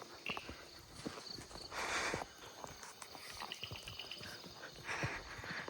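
Faint, steady clip-clop of horse hooves walking at an even pace on a forest ride, with soft rustling in the background.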